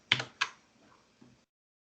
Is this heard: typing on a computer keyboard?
yes